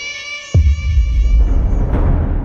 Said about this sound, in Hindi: फिर वही बिल्ली के रोने की आवाज।